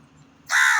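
A single loud, harsh crow caw bursts in after a quiet stretch of faint low background hum, sounding close to the microphone and holding strongly until the end.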